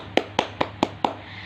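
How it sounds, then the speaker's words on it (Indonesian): Classroom applause for a student, heard as five evenly spaced sharp claps, close and alone, like a single pair of hands clapping. "Beri tepuk tangan lagi untuk temannya."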